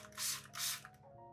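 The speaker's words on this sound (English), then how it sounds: "Light misting also helps leaves absorb moisture more effectively." A spray bottle lightly mists a peace lily's leaves with two quick, close hissing puffs in a row, then falls quiet.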